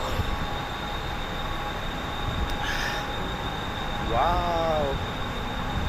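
A train running with a first-class compartment gives a steady rumbling roar, and near the end a whining wheel squeal rises and fades; one voice briefly exclaims.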